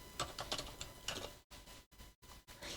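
Computer keyboard typing while entering a slide title in PowerPoint 2016: bursts of quick, close key clicks that thin out into a few separate taps with short silent gaps, quiet and without talk.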